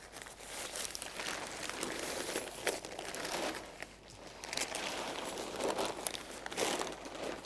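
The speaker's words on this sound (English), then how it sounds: "Once you've taken the poles out of the fly sheet, you can then fold the tent up." Nylon fabric of a Gelert Chinook tent crinkling and rustling continuously as it is folded up by hand, a steady close crumple with soft scrunches and brief pauses.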